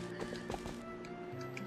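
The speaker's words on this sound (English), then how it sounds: "Come to me, my beloved steed." A horse in Zelda: Twilight Princess whinnies close by while hooves clip-clop, a brief loud neigh over steady game ambience.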